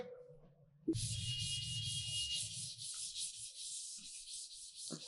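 Writing is rubbed off a board with a steady, continuous scrubbing that starts abruptly after a short quiet moment and runs for several seconds at a fairly even level, close by and with no voice over it.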